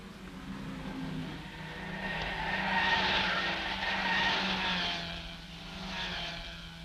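A Jaguar race car making a poor start in the 1964 Tour Auto in France, heard as a distant engine drone with a rising and falling whine and tire noise, steady and fairly faint.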